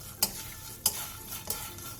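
Dried shrimp being dry-stirred in an unoiled pan over medium heat, giving a soft continuous sizzling rattle with three sharp scraping stir strokes spaced evenly, close up and with no voices.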